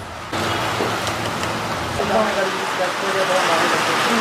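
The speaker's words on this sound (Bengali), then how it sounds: "বেশ ভালো লাগছে, বৃষ্টি হচ্ছে ভাই।" Rain falls steadily at a motorcycle and car care workshop, a broad constant patter that starts abruptly, while someone talks over it.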